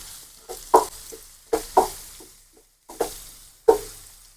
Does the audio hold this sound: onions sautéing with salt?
yes